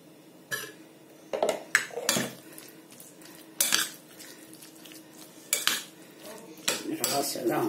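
A spoon scrapes and clinks against a bowl as tahini is stirred into Syrian baba ghanoush salad, with bursts of close scraping separated by short pauses.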